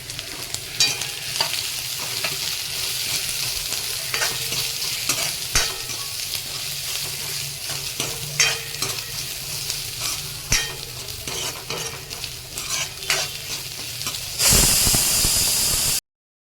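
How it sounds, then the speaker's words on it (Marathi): Onion and grated coconut roasting in a pan with garam masala, a steady sizzle and hiss under repeated scraping stirs, ending in a louder burst of steamy hissing just before it cuts off. "तर कांदा आणि खोबरं छान भाजलं आहे"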